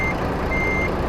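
A reversing truck in American Truck Simulator gives a couple of electronic backup beeps, one brief and one longer, over a heavy steady engine drone, no voices.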